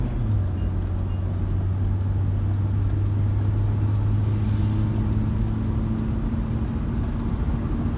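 A steady car-interior drone while driving on the Enugu–Port Harcourt expressway toward Umuahia, with low engine hum and constant road and tyre noise, even and continuous, no talking.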